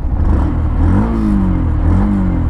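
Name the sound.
Yamaha FZX 149cc motorcycle engine running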